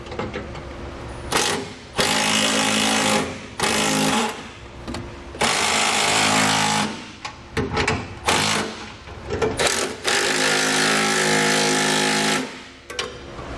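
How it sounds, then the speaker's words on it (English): A power tool snugs down U-bolt flange nuts while Firestone Ride-Rite air helper springs are fitted to a 2016 Nissan, running in several loud, close whirring bursts separated by short pauses. "Now we can go ahead and snug our U-bolts down."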